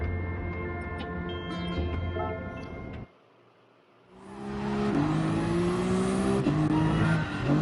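GT Sport race cars drive with revving engines and shifting gears, a brief drop to near silence, then a louder engine surge with rising pitch and tire noise.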